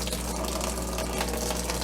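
Old fuel is poured out of the tank of a Homelite generator being revived after 15 years, making a steady close liquid gush and splash that runs without a break.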